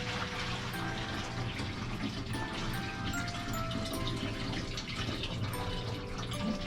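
Clean water, kept no hotter than about 140 degrees, is poured into the solution tank of a PEX500 carpet extraction machine, a steady rushing fill lasting the whole stretch at an even, close level, with no talk over it.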